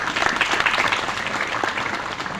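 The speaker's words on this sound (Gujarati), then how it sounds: "પોતાના ઇન્ડિયન હોવા માટે એકવાર જોરદાર તાળીઓ પાડો." A school crowd applauds at a Republic Day celebration, with dense, energetic clapping from many people that holds steady throughout at close range.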